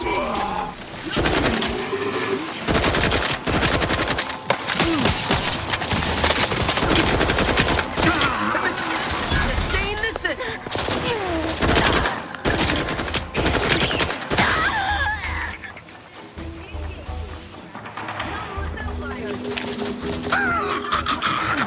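Gunfire in Outer Worlds 2 as turrets are shot down, a dense run of loud bursts and rapid shots with game sound effects throughout, easing off toward the end.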